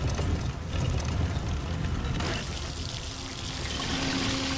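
Steady rushing flow of falling water in the video game God of War 3, a continuous broadband wash with a faint mechanical hum joining partway through.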